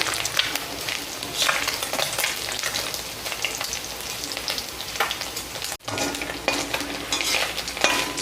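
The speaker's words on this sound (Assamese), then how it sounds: "এতিয়া মাছকেইটা মই কাঢ়ি মাছখিনি ভজা তেলখিনিতে পিঁয়াজ নহৰুখিনি দি যাম" Onion and garlic fry in oil left over from frying puthi fish, a lively close sizzle broken by repeated scraping stirs of a utensil against the pan and one brief pause; no speech.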